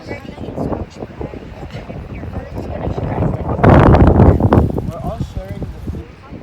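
Strong wind buffets the microphone in heavy low rumbling gusts on a beach in Mykonos, growing loudest midway, while people talk over it.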